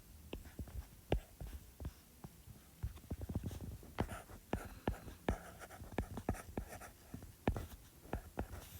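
Pen writing on paper, close and quiet, with a steady stream of small scratches and taps as words are written out, and no talking.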